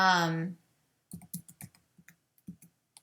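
Computer keyboard keys tapped while typing, a string of light, uneven clicks close by, following a brief voice at the start.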